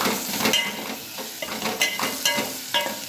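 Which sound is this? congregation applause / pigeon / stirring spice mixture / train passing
stirring spice mixture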